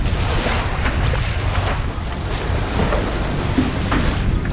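A sailboat plunges through choppy seas at the mouth of a channel between Belize and Mexico, with a steady rush of surf and splashing water under constant wind buffeting the microphone, loud and continuous without pause.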